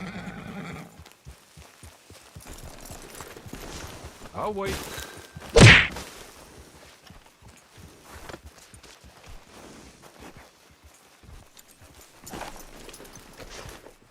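A horse in Red Dead Online whinnies loudly once, with clip-clopping hooves and scattered thuds around it, while a voice speaks briefly.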